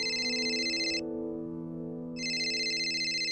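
A telephone rings indoors with a bright electronic tone in two bursts separated by a short pause, loud and close, alone with no talk.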